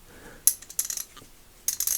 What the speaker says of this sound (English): These clicks are too clicky as opposed to that one, which the clicks were very loose.